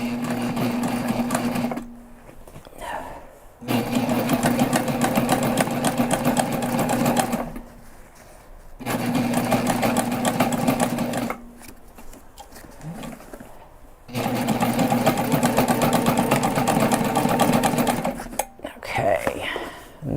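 Sewing machine stitching a backpack runs in three loud, steady bursts of several seconds each, separated by short pauses with faint handling sounds and a brief soft voice near the end.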